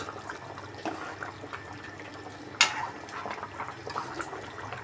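Aloo curry with tamarind juice simmers in a pan, giving a steady, soft bubbling hiss with one brief sharper splash or clink partway through.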